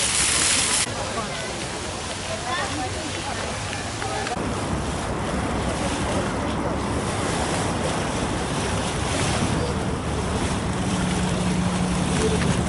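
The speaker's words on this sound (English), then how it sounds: "There are even crowds of the boats here." Boats moving on the water in a busy city center produce a continuous wash of engine rumble, waves and wind noise, with some voices mixed in.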